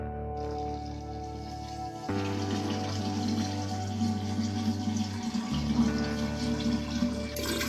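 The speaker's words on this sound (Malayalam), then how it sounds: "വെള്ളം കൂടെ ഇതിലോട്ട് പതുക്കെ ആഡ് ചെയ്ത് കൊടുക്കാൻ പോവാണ്" Boiled and cooled water is poured slowly into a jar for rice wine, making a steady gurgling, splashing stream that grows fuller partway through and continues close by without talk.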